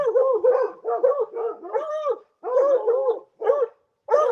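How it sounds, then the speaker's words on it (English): A dog barks and howls outdoors in repeated bursts of rough, yelping barks, close and loud, with brief pauses between volleys and no talking. "I've got Enos outside with me, and he's the crazy dog"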